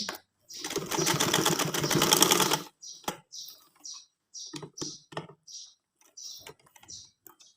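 A sewing machine stitches trouser fabric in a fast continuous run for about two seconds, then stops, followed by a series of short separate clicks and taps close by.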